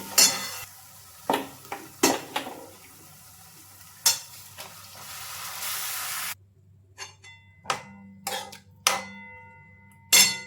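Sprouted legumes, lentils and salt are stirred into a vegetable curry in a pot. A spoon scrapes and knocks against the metal in a dozen irregular strokes, with quiet pauses and faint sizzling between them and no voices.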